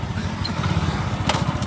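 A motorcycle engine runs nearby on a rural ride in Gujarat, producing a brief, steady low putter with a rhythmic pulse.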